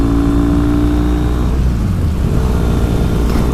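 A custom Triumph T100 cafe racer motorcycle cruising at 60 mph around 3,500 RPM, its engine holding a loud, steady droning howl with a brief dip in pitch midway, close to the microphone and with no talking.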